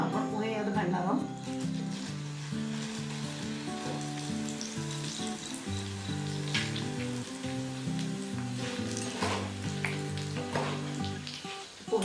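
Flattened rice (poha) fries in hot oil over a medium flame for a traditional chivda, giving a continuous, dense sizzle with a voice running over it throughout.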